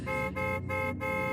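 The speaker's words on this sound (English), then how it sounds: "and the honking, it wouldn't stop" A car horn honks in three sustained blasts separated by brief gaps, loud and close, with no one speaking.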